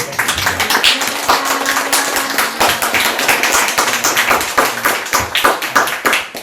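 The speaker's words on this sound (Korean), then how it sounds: "오늘은 우리 한번 박수로 한번 환영할까요?" A church congregation claps together in welcome, dense continuous hand claps filling the room loudly from start to finish.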